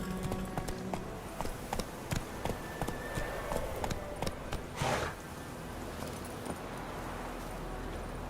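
Hooves of Roach, a horse galloping in The Witcher 3, clip-clop in a steady rapid rhythm at moderate distance over game ambience, with a brief whoosh midway and no talk.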